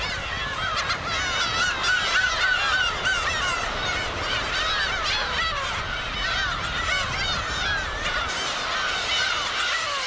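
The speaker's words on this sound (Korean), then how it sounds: "수만 마리의 괭이갈매기 떼가 하늘과 바다를 뒤덮는다." A huge flock of black-tailed gulls calling over the sea at Dokdo island in June, a dense, loud, unbroken chorus of overlapping honking cries filling the whole stretch, with no talk.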